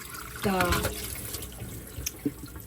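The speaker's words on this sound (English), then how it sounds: "putting the cold water, and then on the running water" Cold water running from a kitchen tap into a sink while peppers are prepared, a steady close rush with brief splashes, under a low background hum.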